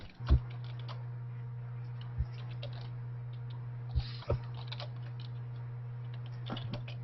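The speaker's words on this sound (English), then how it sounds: "I'm typing." Typing on a computer keyboard, with soft scattered key clicks and a few louder taps under a steady low electrical hum.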